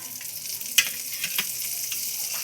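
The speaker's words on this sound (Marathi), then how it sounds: "इथे मी 1 चमचा असा बटर टाकत आहे" A spoonful of butter hits a hot pan and sizzles in a steady, close hiss with a few sharp crackles and pops, no voices.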